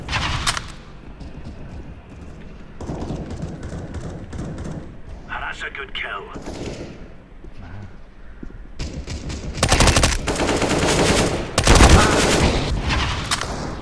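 Suppressed MP5-SD gunfire in Counter-Strike: Global Offensive, fast bursts of muffled shots mixed with game effects while players talk and shout excitedly over the action.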